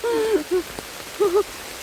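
Rain falls steadily during mushroom picking, a soft continuous patter under brief snatches of a nearby voice.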